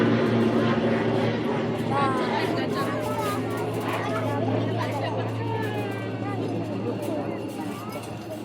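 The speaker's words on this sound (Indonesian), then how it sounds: "pesawat kecil aja nih yang mengudara di atas Pekanbaru" A small propeller plane drones steadily over Pekanbaru near the airport runway, slowly fading as it climbs away, with people chattering nearby.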